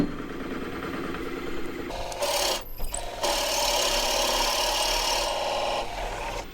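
A drill bores into a cross-grain wooden tube on a lathe with a continuous, close, gritty grinding rasp that falters briefly partway through and then runs steadily again.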